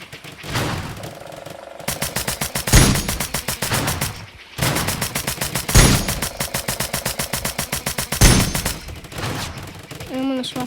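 Rapid automatic gunfire from an online shooter video game crackles in long dense bursts with brief pauses between them, loud and close throughout.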